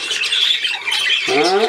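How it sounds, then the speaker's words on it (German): An old seagull gives a loud, close, harsh squawk, then a voice speaks briefly at the end. "Die alte Möwe sagt, ne?"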